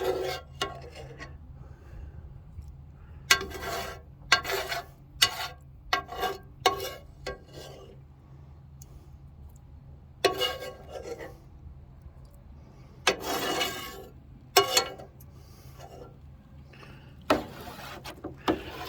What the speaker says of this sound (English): I get this all stirred in there nice and good.